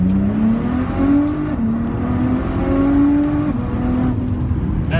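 A Nissan GT-R R35 accelerates at full throttle in second gear, its engine droning loudly and steadily climbing in pitch, briefly dropping at gear shifts around 6,000 rpm, heard close from inside the car.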